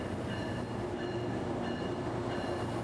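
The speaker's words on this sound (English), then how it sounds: "The train started running 3 hours ago." Steady rumble and rolling noise of a Tri-Rail commuter train at a Palm Beach County station, with faint squealing wheel tones riding over a continuous, moderately loud drone and no talking.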